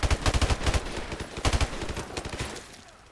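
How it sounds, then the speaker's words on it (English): Machine gun fire in Call of Duty Modern Warfare: rapid, loud automatic bursts of evenly spaced shots, a short pause, then more bursts tapering off near the end, with no talking. "Man, that MG is dug in."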